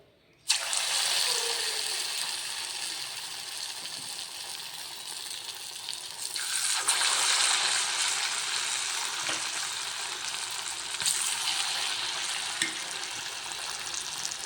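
Spoonfuls of ripe jackfruit batter frying in boiling oil, a steady loud sizzle that starts abruptly and hisses continuously, with brief bursts of bubbling along the way.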